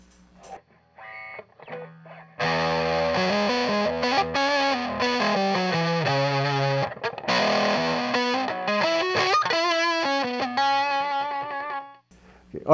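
An electric guitar runs through a Paradox Effects Terran OD overdrive pedal, giving loud, sustained overdriven chords and single-note runs that ring out alone before a quick fade.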